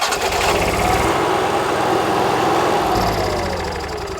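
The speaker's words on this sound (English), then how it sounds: "We can start the generator here" The generator on a 2026 Newmar Bay Star Sport motorhome kicks in and runs, a loud, close, steady engine drone with a slight shift in tone partway through that tapers slightly at the end.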